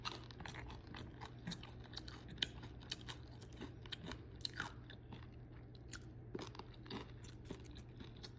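Rice mixed with dal and ivy gourd fry is eaten close to the mic in quiet, soft, moist chewing and small crunches that repeat irregularly over a low steady background hum; no speech.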